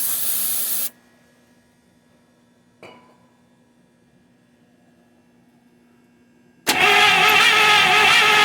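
Starting fluid sprays into a 1953 Buick Special engine after 30 years in storage. A loud hiss of spray is followed by quiet, a single soft click, then the engine cranks and roars loudly and steadily.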